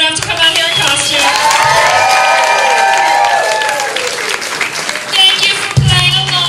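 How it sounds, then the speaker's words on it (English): An audience at a live costume contest in a gallery venue applauds and cheers, with dense clapping and crowd noise under loud whoops and voices, then a sudden low thump near the end. "give a big round of applause for everyone brave enough to come out here in costume"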